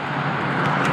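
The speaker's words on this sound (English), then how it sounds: "So the noise of all those cars" Steady wash of cars on a motorway or large dual carriageway, a continuous broadband road roar heard from nearby with no speech.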